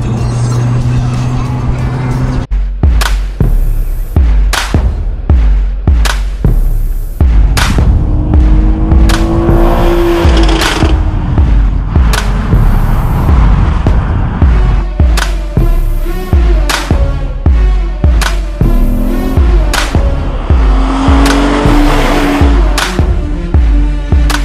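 A Lexus V6 engine revs hard to the redline again and again, climbing in pitch with sharp bursts and quick drops between, loud and close throughout.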